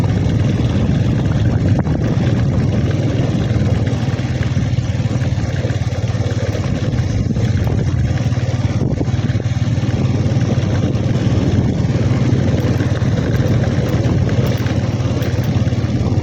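A motorcycle rolling slowly along a rough track toward a tribal village, its engine a steady, loud, continuous drone close to the rider with no pauses.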